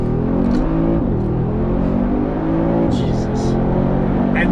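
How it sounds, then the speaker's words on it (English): A 2020 Mercedes-AMG G63 with side exhaust accelerates hard, its loud, deep engine drone shifting in pitch as it pulls, heard from inside with a few brief hissy bursts on top. "And the side exhaust. Listen to that."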